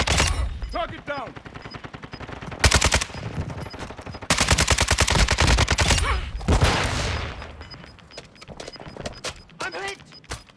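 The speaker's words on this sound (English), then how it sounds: "They're shooting at me." Bursts of automatic gunfire from Call of Duty Modern Warfare II gameplay, loud and close, repeated in several sustained volleys with brief gaps, mixed with game speech and background effects.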